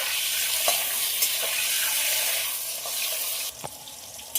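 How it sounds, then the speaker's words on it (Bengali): Green beans stir-fried in hot oil, a steady bright sizzle with occasional scrapes of the spatula against the pan, close and loud with no talking. "ওই তেলের মধ্যে শিমগুলো ভেজে নেব। শিমগুলো ভাজার জন্য খুব ভালোভাবে নেড়ে দেবো।"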